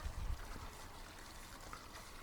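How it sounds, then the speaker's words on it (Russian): Water poured generously from a bucket into a dug planting hole with humus for overgrown tomato seedlings in an open garden bed, a soft close trickling and splashing that runs steadily without talk. "Заливаю водой обильно."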